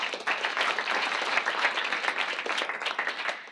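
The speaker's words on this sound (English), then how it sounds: "Let's give them a round of applause." An audience at an opening-day event for a pitching training camp in Chicago applauds steadily. The dense clapping stays loud and even for a few seconds with no talk over it.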